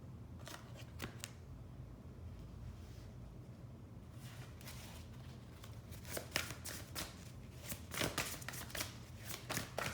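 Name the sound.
drawing a tarot card from the deck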